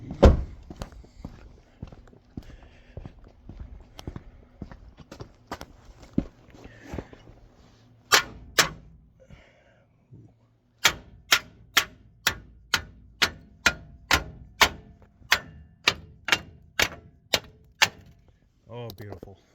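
A hammer strikes a loose cover board about a dozen times in a steady, evenly spaced run, each blow a sharp, loud knock, after earlier scattered thumps and handling noise with someone talking briefly.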